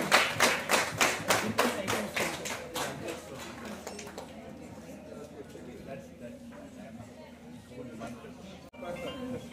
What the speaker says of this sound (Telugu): Background applause.